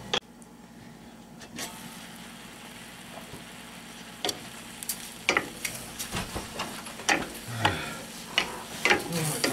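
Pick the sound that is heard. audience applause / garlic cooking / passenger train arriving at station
garlic cooking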